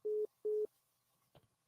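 Phone busy signal after a call drops: two identical steady beeps in a row, clear and close, followed by a faint short click.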